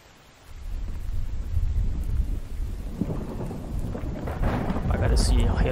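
Thunder rolls through a lightning storm in a zombie survival base-building game, a deep rumble building quickly and holding loud over steady rain, swelling again near the end.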